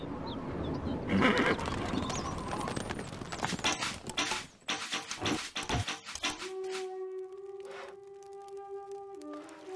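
A horse whinnies loudly in the video game Stronghold Crusader, followed by a burst of hoofbeats clopping quickly, then a bright synthesized tone rings out at the end.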